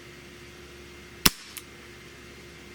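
An S&W 686 air revolver fires a single 7-grain Diablo Basic pellet over a chronograph: one sharp, loud crack followed a moment later by a fainter snap, with quiet around them.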